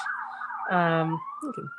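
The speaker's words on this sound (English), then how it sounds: "Sirens going by." A brief siren wail sweeps past, tonal and rising, with a short voice-like burst near the end.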